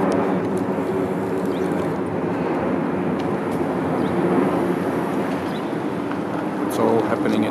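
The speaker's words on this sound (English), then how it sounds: "I can hear a jet going over." A jet aircraft passes overhead above South Bank, a steady broadband roar holding near and loud throughout under outdoor city ambience, swelling slightly toward the end.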